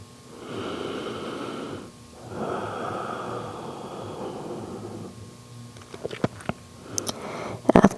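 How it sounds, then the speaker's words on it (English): Slow, deep yoga breaths, with two long full breaths heard close and soft, each lasting a few seconds, followed by a pause and a few faint ticks and clicks. "see if you can return to the fullness of the inhale and fullness of the exhale"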